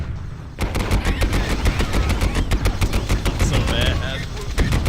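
Sustained turret machine-gun fire in Warhammer 40K: Fire Warrior, a loud rapid stream of shots that starts abruptly and runs without pause, with someone briefly speaking over it.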